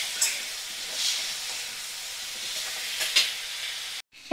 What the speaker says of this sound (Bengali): এবারে মিডিয়াম ফ্লেমে রেখেই আমি মশলাগুলো দিলাম আর কষিয়ে নেব।